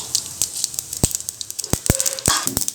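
Hot oil sizzles steadily while mustard and cumin seeds pop and crackle in sharp, irregular bursts, close up.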